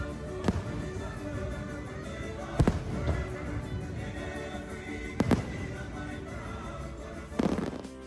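Fireworks bursting over Epcot at Walt Disney World, heard from a distance as a few separate booms and pops spaced several seconds apart over a steady crowd murmur.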